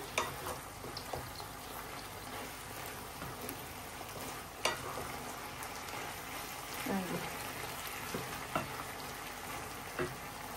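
Fish sizzles in a pan with Malabar spinach and leafy greens, a soft continuous crackle and hiss with occasional stirring clinks and scrapes, while someone talks over it.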